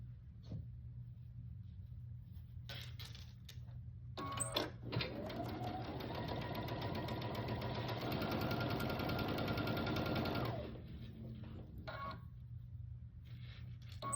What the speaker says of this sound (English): I'll line this up with this and sew down this side.